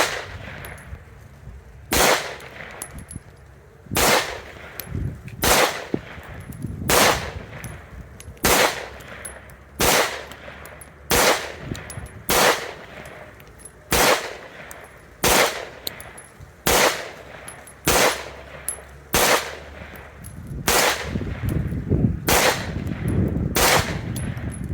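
Roughly seventeen sharp, loud shots from an FN 509 Tactical pistol firing Winchester 115 grain ammunition, spaced fairly evenly about a second or more apart with ringing clangs between, close by and without talking.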